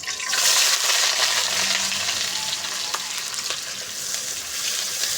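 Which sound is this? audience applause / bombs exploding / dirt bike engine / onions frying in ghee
onions frying in ghee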